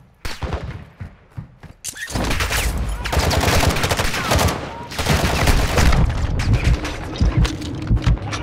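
Sustained automatic gunfire in a shooter video game, rapid loud bursts rolling on almost without pause from the start, with scattered thumps and a voice talking briefly.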